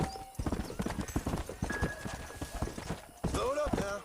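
Horse hooves clip-clop in a steady rhythm through Red Dead Redemption, close and clear, with a tone and a brief whinny-like sweep near the end.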